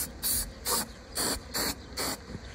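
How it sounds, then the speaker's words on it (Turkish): Bee swarm-catching lure perfume sprayed from a pump bottle into a beehive, five short sharp hissing bursts in a quick even rhythm, close and clear with brief pauses between. "Bu ihtimali yükseltmek için şu şekilde bir oğul yakalama spreyi veya parfümü de kullanabilirsiniz. Hemen ben şimdi sıkayım."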